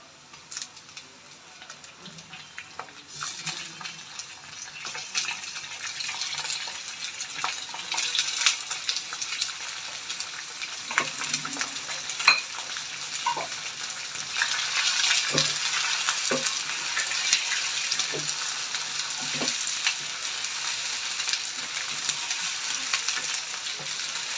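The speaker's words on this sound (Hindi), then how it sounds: "अब मैं इसके अंदर चिकन डाल देती हूँ, 1 किलो चिकन।" One kilo of chicken for a spicy degi chicken curry frying in a pan: a steady hiss builds and holds for the whole stretch, with scattered pops and occasional clinks of stirring beneath it, close and moderately loud.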